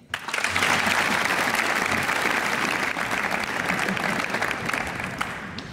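A concert-hall audience at a young choristers' grand final claps for the departing judges, a loud sustained wash of applause that rises quickly and stays full and even throughout.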